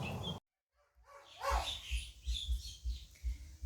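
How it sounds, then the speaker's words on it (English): A dog barks repeatedly at a distance outdoors, faint rhythmic woofs with some higher yips, heard alone after a short silence. "now he's barking his head off over there"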